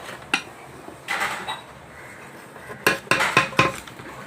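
Gram flour and salt mixed in a bowl for crispy janthikalu, with a utensil clinking and scraping against the dish in a few sharp, separate bursts and quiet gaps in between.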